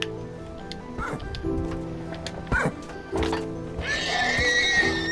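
Minecraft horses whinny in short game-sound bursts, with clip-clopping hooves and a high neigh building toward the end, all fairly close and clear.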